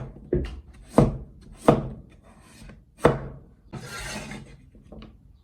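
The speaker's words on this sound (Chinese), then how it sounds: "南瓜去皮以后，我们呢给它切成两半，然后呢再给它切成薄片" Peeled pumpkin being cut into thin slices with a knife on a cutting board: four or five distinct heavy chops spaced about a second apart, with a brief scraping pass near the end, close up and with no talking.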